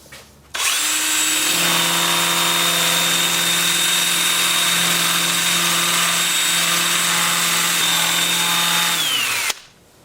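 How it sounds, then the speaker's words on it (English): A 2-inch sanding disc spins up on a powered tool against turned wood on a lathe, giving a loud, steady high whine and hum for about nine seconds before winding down. "I'm going to switch to my 2-inch sanding disc"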